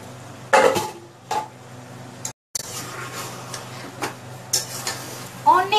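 An egg is stirred in a frying pan, with a faint sizzle under irregular scrapes and clinks of a utensil against the pan and a short gap of silence midway.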